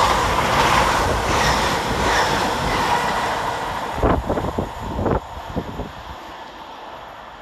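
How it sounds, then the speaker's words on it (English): LNER train 800106, a Leeds to London King's Cross service, passes through Outwood station with a loud rushing roar and wind buffeting, then a run of rhythmic wheel clatters as the carriages go by and the sound fades. "Next passing through the station is 800106, working 1 Alpha 25 for LNER from Leeds to London King's"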